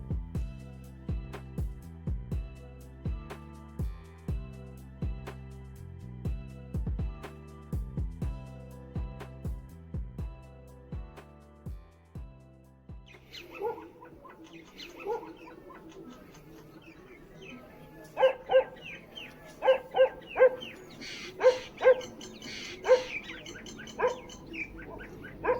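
Morning mountain ambience in Munsyari, India, with steady rhythmic tones early on, then scattered dog barks and bird calls at moderate distance over a quiet background.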